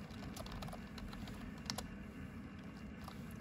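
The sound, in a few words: typing sudo password on a computer keyboard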